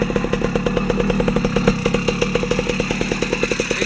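Ogar 200 motorcycle fitted with a 60/4 cylinder and diffuser exhaust, idling with a bassy, metallic pulse: evenly spaced thumping firing beats at close range, loud and steady on their own.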